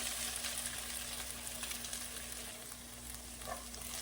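Eggs frying in a pan while being browned for a chicken and cashew salad, giving a steady, soft sizzle that stays low and even throughout, with no voices.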